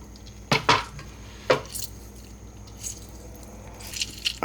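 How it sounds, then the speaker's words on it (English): A knife cuts a lime in half on a board, giving a few short, close taps and scrapes at the start and middle, followed by quiet stretches with faint clinks. "So I'm going to go ahead and just give this a slice here. We'll do half a lime."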